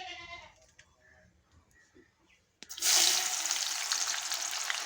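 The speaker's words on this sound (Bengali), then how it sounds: "আমি তেলের উপর কুচিয়ে রাখা পেঁয়াজ দিয়ে দিলাম।" Chopped onions dropped into hot oil in a wok for a desi chicken curry, a sudden loud sizzle bursting in after a quiet start and continuing steadily close by.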